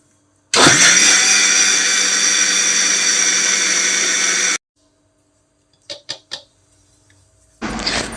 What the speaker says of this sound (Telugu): ఇలా మిక్సీ పట్టుకుంటే పైన వెన్న తేలుతుంది